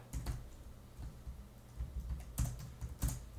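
CSS code being typed on a computer keyboard: a close, steady run of soft key clicks in irregular bursts, with a few heavier presses and no talking.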